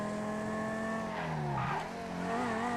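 A 1999 Dodge Viper GTS ACR engine in GTA 5 revs steadily under full throttle out of a corner, its harmonic drone dipping and rising again, with a hint of tire scrub, loud and close throughout.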